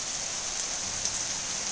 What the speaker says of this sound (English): it's a rainy day. It's raining.